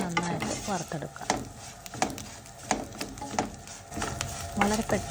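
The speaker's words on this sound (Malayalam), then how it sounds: "വീണ്ടും അതൊന്നുകൂടെ നന്നായിട്ട് വറുത്തെടുക്കാം." Dried shrimp stirred and fried in a pan, with repeated scraping strokes of a spatula and light crackling sizzle, close and moderately loud, with faint voice-like sounds in between.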